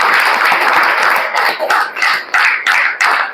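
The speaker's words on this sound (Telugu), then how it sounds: "అట్లనే గ్రేట్ క్లాప్స్ వెస్టీజ్ కంపెనీకి ఇవ్వాలి" A training-session audience gives loud applause for the Vestige company, with dense clapping that breaks into rhythmic bursts toward the end as the crowd claps in unison.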